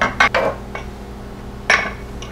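Small ramekins are set into a water bath dish while making coconut milk crème brûlée, giving a few clinks and knocks of ceramic on ceramic: a quick pair of taps, a pause, then another clink.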